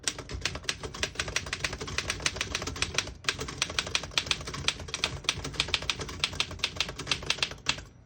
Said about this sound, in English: As you can see, all the keys type nice and none of them skip or stick.